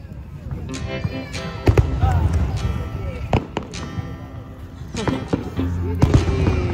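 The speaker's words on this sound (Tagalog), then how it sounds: "Fireworks is starting." Fourth of July fireworks pop and bang at irregular intervals, sharp cracks mixed with crowd voices and chatter around them.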